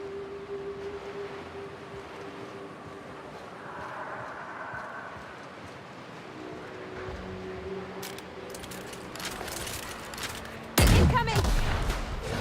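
Gunfire in the video game The Outer Worlds: a burst of sharp broadband shots near the end, loud and close, after a stretch of low ambient game sound with faint mechanical hum.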